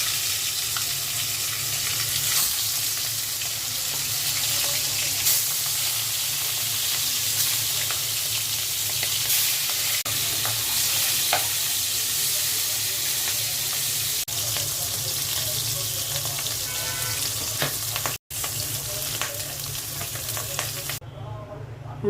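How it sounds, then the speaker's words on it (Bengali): Hilsa fish heads fry in hot oil in a home kitchen pan, giving a loud, steady sizzle that runs unbroken for the whole stretch, with occasional scraping stirs and a brief clatter near the end. "মাছের মাথাগুলো ভেজে নিচ্ছি।"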